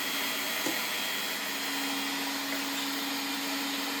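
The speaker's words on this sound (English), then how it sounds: "I'll leave it on low so that you can hear me." A 1990s Panasonic MC-E53 upright vacuum cleaner with a brushroll that is not turning hums steadily at a low setting, a constant whirring drone with no talking.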